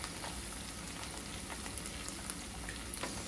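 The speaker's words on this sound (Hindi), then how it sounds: "तो इसी ऑयल में हम एक अंडे को भी फ्राई कर लेंगे।" An egg frying in hot oil for Chinese-style chicken egg fried rice at a street food stall, giving a steady, dense crackling sizzle throughout with small pops and no talking.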